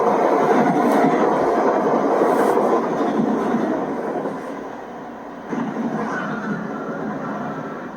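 Modern trains at Harrow and Wealdstone station near London: a loud, close rolling rumble of passing carriages that eases off midway, then rises again with wheel noise.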